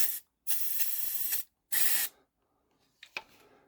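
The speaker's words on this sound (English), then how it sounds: "What I'm going to do is try and just spray the plant a bit around there." A spray bottle mists water onto a plant inside a Hapolopus tarantula enclosure: two close, loud hissing bursts, then a shorter third, followed by faint clicks and rustles.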